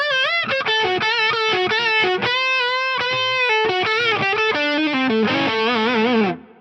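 Electric guitar played through an Axe Fx III distortion drive model, a loud, dense, saturated riff of chords and sustained notes with a steady rhythm, ending in a ringing chord that cuts off abruptly.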